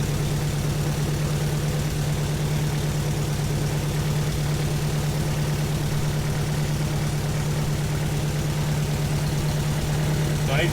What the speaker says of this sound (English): The exhaust is blowing